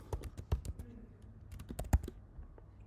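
Fast, light typing on a computer keyboard, close and quiet, with irregular bursts of key clicks and a short pause in the middle.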